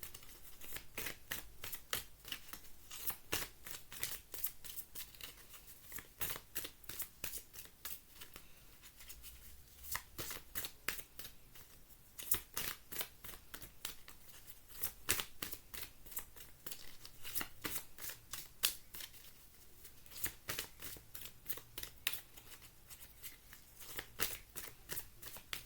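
Tarot cards shuffled by hand in a steady, rapid riffling rhythm, crisp close flicks repeating continuously for the whole stretch at a moderate, even level.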